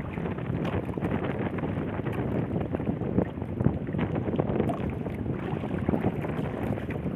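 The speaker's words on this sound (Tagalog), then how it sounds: "Kaso medyo malakas yung hangin at saka maalon-alon na." Strong wind at sea buffets a small fishing boat, a loud, continuous rush and roar of gusts and choppy water with the microphone catching blustery noise throughout and no voices.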